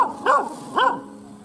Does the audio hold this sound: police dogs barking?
yes